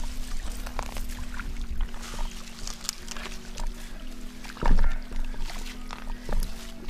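Irrigation water pours and trickles continuously around apple trees on a farm, a steady flowing wash with a low hum underneath and a brief louder splash midway.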